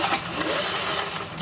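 A sewing machine runs a stay stitch along a collar seam at a 5/8-inch allowance, giving a steady, close-up whirring drone with no pauses.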